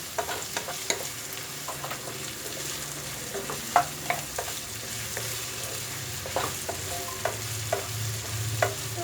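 Ginger garlic paste and green chillies sauté in a pan, with a steady soft sizzle broken by repeated scraping and stirring clicks of a spoon, close and fairly quiet, with no talking.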